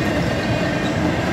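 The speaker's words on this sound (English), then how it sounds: "This is our 21st train today." A two-engine CSX intermodal freight train rolls past in Folkston, Georgia, making a loud, steady rumble of wheels and cars with faint clatter and no voices.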